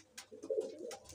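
A female Punjabi Malwai pigeon gives a soft, low coo, faint and close, a single brief throaty call with a few light rustles around it.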